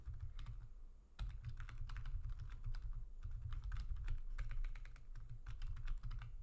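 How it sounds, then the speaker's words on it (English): Rapid typing on a computer keyboard, close and continuous bursts of key clicks with a brief pause near the start, over a low steady hum. "I am not typing correctly today"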